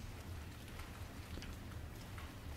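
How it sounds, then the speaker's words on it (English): Steady rain falls across rice paddies near Hanoi, a continuous soft hiss of drops on water and ground with a low rumbling undertone, even and unbroken throughout. "We watched in silence as the rain swept across the rice paddies"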